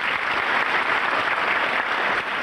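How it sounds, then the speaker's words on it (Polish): Brief round of crowd applause at the 1994 Great Orchestra of Christmas Charity (WOŚP) event, a continuous dense patter of many people clapping together, steady and fairly loud with no voices standing out. "krótkie brawa"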